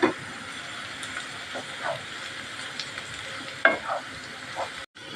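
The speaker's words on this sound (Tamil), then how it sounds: "கறி போட்டு நல்லா இறக்கி விட்டுடலாம்" Beef sizzling with onions in a frying pan for green chilli beef chukka, with a soft steady fry under intermittent scraping stirs and a few sharp clinks of the utensil, fairly quiet and close.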